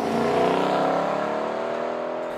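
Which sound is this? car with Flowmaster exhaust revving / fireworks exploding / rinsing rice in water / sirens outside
car with Flowmaster exhaust revving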